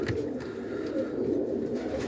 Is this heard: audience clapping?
no